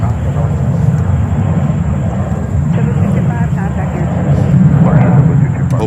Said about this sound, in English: And we have El Al getting ready. Flight to Tel Aviv.